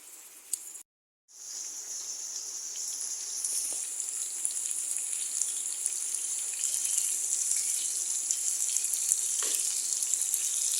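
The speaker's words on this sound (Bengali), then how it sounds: "কম জলে আস্তে আস্তে এভাবে ভেজে নিচ্ছি পটল ভাজি" Slices of pointed gourd (potol) frying in hot oil in a pan, a steady bright sizzle that continues evenly after a brief gap, close and with no talking.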